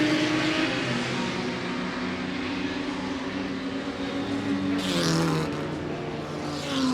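A small BMW race car at the Goodwood Revival roars past with a sustained engine note that shifts in pitch, loud and fairly close, with crowd and track ambience behind it.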